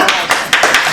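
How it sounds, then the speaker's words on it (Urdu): Audience clapping at an Urdu-language children's program in Brooklyn, New York: a few sharp, uneven claps, fairly loud and close, spread across a brief moment. "تالیاں."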